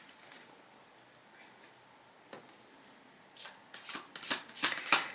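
Tarot cards are handled quietly at first, then shuffled and laid out with a flurry of close, crisp riffles and flicks that grow louder and denser toward the end.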